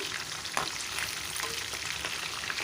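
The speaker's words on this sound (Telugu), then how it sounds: "బాగా వేయించుకున్నామండి క్యాప్సికము" Capsicum and meal maker soy chunks fry in a pan for a masala curry, giving a steady close sizzle and crackle with a few soft stirring scrapes and no talk.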